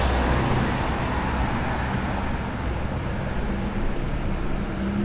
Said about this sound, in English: Hopefully the traffic noise won't be too bad.